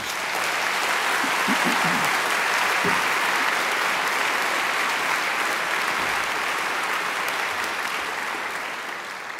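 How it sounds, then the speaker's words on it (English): A graduation ceremony audience claps in a dense, sustained round of applause, loud and even, fading slightly at the end with no talk over it. "I think she deserves another great round of applause."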